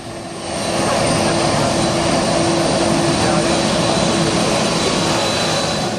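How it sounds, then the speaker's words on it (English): KLM Boeing 747 jet engines at full takeoff thrust at St. Martin, a loud, steady roar that swells up within the first second and then holds at full strength, with a sustained whine running through the noise and nobody speaking. "Moments later, full power engaged, generating a powerful jet wash that hurled beachgoers backward."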